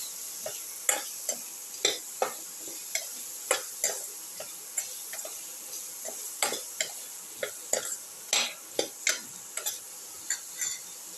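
A spoon stirring and mixing salted potatoes and vegetables in a pan for a ginger cauliflower potato casserole, close irregular scraping and tapping knocks with a faint sizzle underneath.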